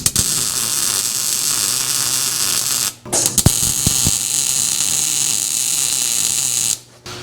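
Tack welds go onto the front suspension of a 1962 Mercury Comet with a Mustang II setup, a loud steady crackling buzz broken by two short pauses between tacks.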